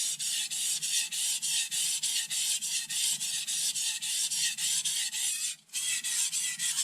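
A kitchen knife is drawn over a whetstone in steady, even strokes, about three per second, each a close, gritty scrape with a brief pause before the last few.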